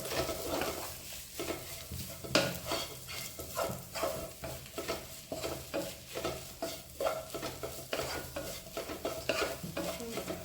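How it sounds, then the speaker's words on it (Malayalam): Kothu parotta being mixed and stir-fried in a pan over high flame: repeated scraping and clanking strokes of a spatula over a soft sizzle, close and fairly quiet with no talking. "നന്നായിട്ടൊന്ന് മിക്സ് ആവട്ടെ"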